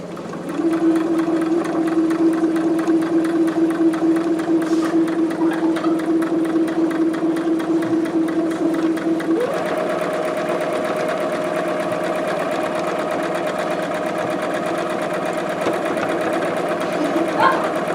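Sewing machine stitching a buttonhole in a fashion design classroom, a steady close whirring hum with a fast stitching rhythm that shifts pitch partway through and runs continuously.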